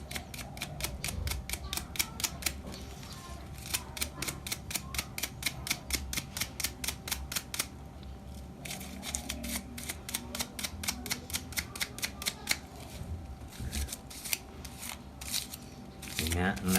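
Silver jewelry is rubbed briskly with receipt paper to polish it, producing close, quick, rhythmic scratchy strokes in bursts with short pauses, while someone talks over them.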